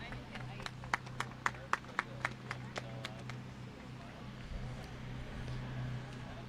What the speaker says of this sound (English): One more round of applause for all of our junior showmen.